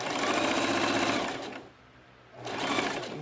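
Close-up Singer Classic sewing machine stitching, a fast, even mechanical buzz that stops for under a second, then resumes at the same speed.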